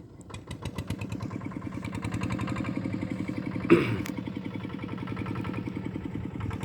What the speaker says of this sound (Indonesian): Tuh, abangnya sedang menyalakan mesinnya Lur. Mau dijalankan lagi.